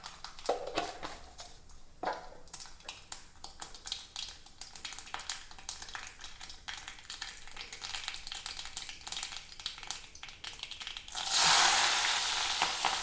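Mustard seeds splutter and pop in hot oil in a pan, a dense run of sharp crackles. A loud hiss surges in near the end.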